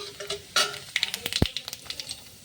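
Whole cumin seeds hit hot mustard oil with cardamom, cinnamon and bay leaf, crackling in a burst of sharp pops and spits over a continuous sizzle, with stirring clinks against the pan.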